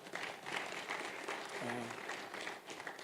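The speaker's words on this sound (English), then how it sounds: "I thought you were going to clap." Audience clapping at a sales masterclass event, a brisk scattered patter of hands heard faintly in a large room, with a voice briefly speaking over it partway through.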